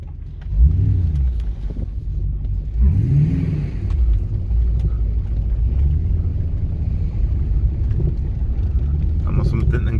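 Audi A6 4.2 V8 Quattro with a faulty automatic gearbox pulls in slowly, its engine rumbling low and rising in a couple of short revs, heard close from inside while someone talks over it.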